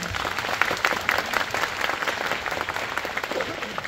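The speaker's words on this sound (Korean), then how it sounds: "큰 박수 부탁드립니다" A cinema audience at a live talk event for a Korean drama series breaks into sustained applause, a dense, bright patter of many hands heard from within the crowd, with some voices mixed in.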